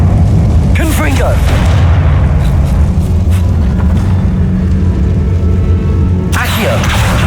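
A Confringo fire-blast spell goes off inside a tomb in Hogwarts Legacy on PC, a loud, deep booming roar that rumbles on heavily, with brief sweeping tones rising over it at the start and near the end.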